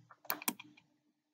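Several sharp mouse clicks in quick succession, close and fairly quiet, as a Chrome dialog is confirmed with OK, then silence.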